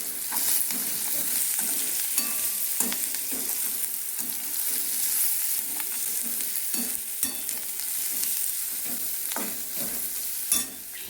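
Samosa filling sizzles in a small amount of oil in a pan, a steady frying hiss broken by repeated scraping strokes of a spoon stirring, close and continuous.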